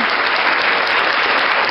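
A church congregation claps for its birthday celebrants, giving a dense, steady burst of applause that fills the room from start to finish, with no voices over it.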